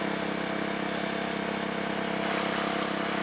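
A motorcycle engine hums steadily while riding on gravel in 2nd or 3rd gear, a constant mid-pitched drone with a dense, broadband wash of road noise beneath it.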